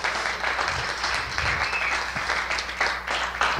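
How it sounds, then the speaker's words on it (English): A church congregation breaks into lively applause, a full and fairly loud patter of many hands clapping continuously for a few seconds with some low rumbling underneath. "let's give them a round of applause for what they're doing."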